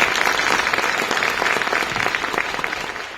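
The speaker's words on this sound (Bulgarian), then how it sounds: "Моля за аплодисменти" A gala concert audience at a young folk talents show breaks into loud, dense applause that continues steadily without pause, fading slightly toward the end.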